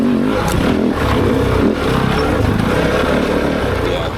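A Kove 450 Rally motorcycle rides through sand and mud, its engine droning loud and constant against a rough, rushing wash of wind and terrain noise, with a voice talking over it.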